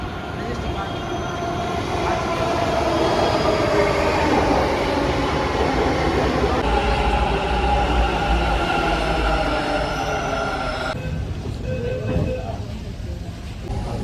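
A Bangalore metro train pulls in with a loud, steady rumble of wheels and a continuous mechanical hum. The tone shifts partway through as the carriages pass close by.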